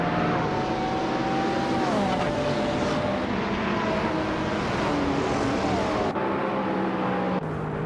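Several supercars, including a 2011 McLaren MP4-12C, racing at Auto Club Speedway in a video game, with loud, layered engine drones whose pitches rise and shift as cars change gears and pass.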